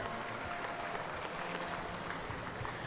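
A crowd at a 4-H cattle show applauds senior showmen: steady, dense clapping fills the arena evenly throughout, with no pauses or talk.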